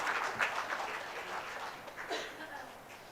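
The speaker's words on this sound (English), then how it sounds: "A round of applause for Dr." An audience applauds a speaker at an India festival event in Vietnam, with steady, dense clapping that stays fairly even and gradually eases throughout.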